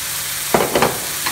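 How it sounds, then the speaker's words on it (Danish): Whisky sauce with chicken stock and rosemary cooks in a pan, giving a steady background sizzle with a few brief stirring or bubbling bursts, close up and with no talk. "Og se, hvordan det hele koger sammen,"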